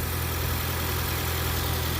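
A 2018 Ford Fiesta 1.6L engine idles steadily after a head gasket repair, a smooth, even low hum that stays constant and close throughout, with no talking.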